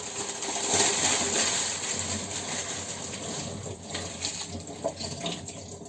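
Baking paper soaked and sloshed in water in a kitchen sink while preparing oven-baked chicken chops, giving a steady close wash of running, splashing water with small clinks and drips, no talking.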